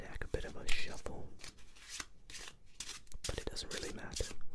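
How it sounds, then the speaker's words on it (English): A deck of playing cards is shuffled close up, with quick papery riffles and flicks in several short bursts under low background noise. "we're going to give the deck a bit of a shuffle"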